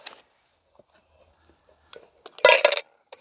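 A camping stove is dropped into a metal kettle, giving light metallic clinks and rattles, then one louder clattering knock as it settles inside, heard close by.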